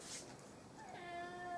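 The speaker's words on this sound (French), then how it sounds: "si vous entendez miauler, ne vous inquiétez pas, c'est mon chat qui s'est senti seul pendant 5 jours." A house cat meows several times in a rising, drawn-out way, fairly faint and close, with quiet room background.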